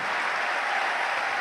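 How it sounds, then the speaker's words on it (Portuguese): A church congregation applauds in a dense, steady wash of many hands clapping together. It stays loud and continuous throughout, with no break. "Isso, aplaude e glorifica"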